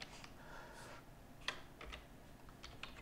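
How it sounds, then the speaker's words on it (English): Typing on a computer keyboard, soft scattered keystrokes close to the microphone, quiet and uneven, with no talking. "just by typing them in"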